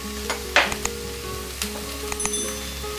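Chili, turmeric and salt sizzle steadily in a hot frying pan with oil, a continuous close crackle broken by a few sharp clinks and scrapes of stirring, with no voices.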